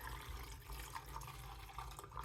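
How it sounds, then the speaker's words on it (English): Film developer chemistry from a Cinestill color kit is poured into a development tank at home, a continuous close, soft liquid pouring hiss with slight gurgles, steady throughout and with no talking. "So I'm going to start pouring."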